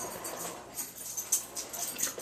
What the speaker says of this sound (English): Here's Dolly, your dog